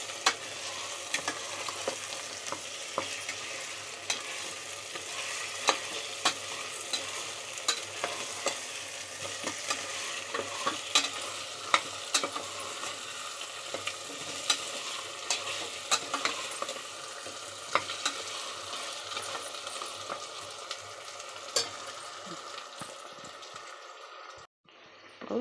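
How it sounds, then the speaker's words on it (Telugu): Mutton paya (trotters) frying in hot oil in a pan, a continuous close sizzle with frequent scraping stirs and clinks of the spoon, ending in a brief knock. "పాయ కూడా ఆయిల్లో కొంచెం ఫ్రై అవ్వాలి"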